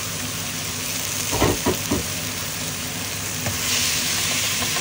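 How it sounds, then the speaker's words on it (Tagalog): Meat, around 500 grams, sizzles steadily in a pan with garlic and onion for a Filipino pinakbet, a continuous close frying hiss broken by a few brief stirring clatters, with no talk. "Pag nagigisa tayo yung pinaka-meat"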